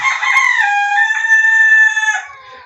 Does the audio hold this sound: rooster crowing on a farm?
yes